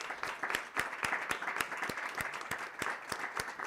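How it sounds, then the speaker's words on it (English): At a World Health Summit regional meeting session, the audience applauds the panelists. Scattered individual claps stand out sharply over a lighter wash of clapping, moderately loud and steady for several seconds. "a round of applause if we can have for the panelists"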